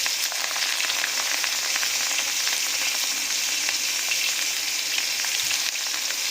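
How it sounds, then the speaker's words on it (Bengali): Small bamboo shoot pakoras fry in hot refined oil at a roadside stall in Jharkhand, a dense, even, loud sizzle that holds steady throughout, heard close with nobody speaking. "এবার এই বাঁশের এইগুলোকে আমরা দিয়ে ছোটো ছোটো করে এবার আমরা পকোড়া করে নিচ্ছি"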